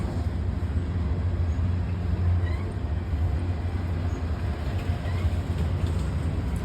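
A train plays back at high volume, a steady loud low rumble of rail cars running continuously throughout without pause.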